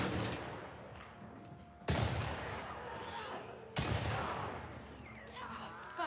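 Heavy gunfire in The Last of Us Part II, with two loud, sharp blasts spaced a couple of seconds apart, each trailing into a long echoing rumble, and faint gameplay noise between them.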